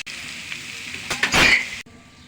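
Spiced burger filling fries in a pan and is stirred, giving a short steady sizzle with a louder scraping burst near the end before it cuts off abruptly.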